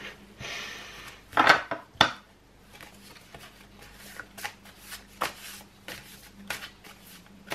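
A deck of cards is riffled in a quick burst, followed by softer shuffling and light taps of cards being handled, close up with no talking.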